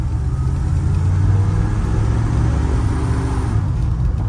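A 1972 Ford F100 pickup with a 390 engine and C6 transmission accelerating from inside the cab, a steady low engine rumble that holds loud and even throughout without talk.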